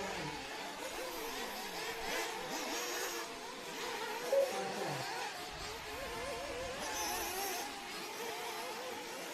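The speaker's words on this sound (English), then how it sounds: "You can hear some of the slap landings, even with the Nitro going" Buzzing nitro RC buggy engines whine at a distance, rising and falling as they race at a qualifying event, with a steady broadband roar throughout and a brief sharp knock midway.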